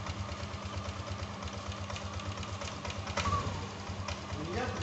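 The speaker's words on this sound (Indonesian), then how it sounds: "Langsung kita coba motornya kita hidupkan bosku ya." Yamaha Aerox 155 scooter engine running at a steady, low idle after being started following an ISC/ESC throttle-body fix, a continuous even putter close by with a slight surge midway and a voice speaking over it.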